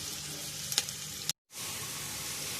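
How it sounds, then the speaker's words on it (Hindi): Chopped onions fry in hot oil for a kabsa, giving a close, steady sizzle with a few pops and a brief silent cut before the hiss resumes. "प्याज चॉप की हुई डालेंगे, इसको हम लाइट ब्राउन करेंगे"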